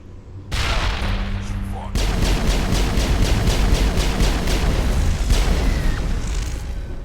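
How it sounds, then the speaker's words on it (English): Grenade blasts and heavy weapon fire in a Mass Effect firefight on Feros, loud booming impacts over a rumbling din, with brief talk at the start. "We'll grenade these guys again."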